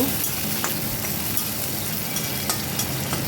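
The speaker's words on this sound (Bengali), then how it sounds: "কাঁচা লঙ্কা দিয়েও 1 মিনিট মতো ভেজে নেব।" Chopped onion and green chillies sizzle in hot oil in a pan, making a steady frying hiss with occasional light scrapes as they are stirred. No voices are heard.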